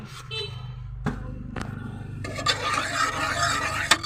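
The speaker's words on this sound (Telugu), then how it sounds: "కొంచెం తిప్పి" Dal being stirred in a cooking pot, giving soft scraping and sloshing strokes with a few sharper clinks, steady and close, with no talk.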